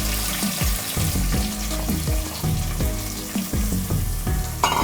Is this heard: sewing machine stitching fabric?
no